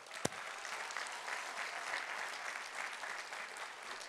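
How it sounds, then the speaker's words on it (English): A large audience at a university commencement ceremony claps in a steady, even wash of applause, moderately distant and sustained throughout, with one sharp knock near the start. "We would like to give all of you our hearty applause."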